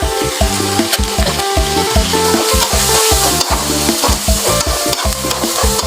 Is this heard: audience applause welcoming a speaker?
no